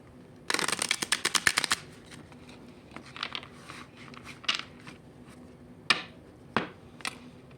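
Oracle cards being shuffled: a dense riffle of quick close papery flicks for about a second, followed by scattered softer card taps and slides, with no talking.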